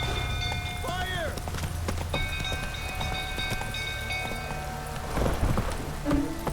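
Roach the horse galloping from burning stables in The Witcher 3, hooves clip-clopping in a rapid rhythm amid crackling and shouting, with a voice calling out over the running hoofbeats.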